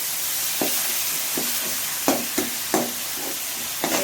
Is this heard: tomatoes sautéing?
yes